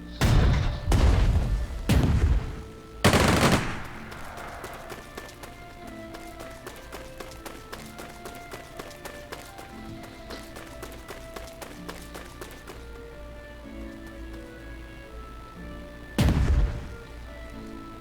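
Artillery fire in the strategy game Strategic Mind: Spectre of Communism, Khalkhin Gol battle: a rapid series of four heavy booms up front, a quieter rumbling stretch, then one more loud blast near the end.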